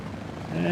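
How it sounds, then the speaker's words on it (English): Helicopter in the Prepar3D v4 flight simulator, its engine and rotor droning steadily and growing louder toward the end, with a rising tonal whine under a broadband hum. "give you a little shot of the helicopter"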